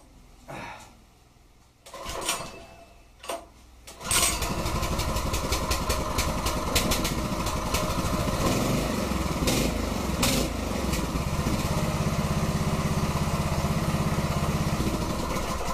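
Small Champion tiller engine after a rebuild, cranked a few times and then firing up, settling into a loud, steady close-up running rumble that continues without pause.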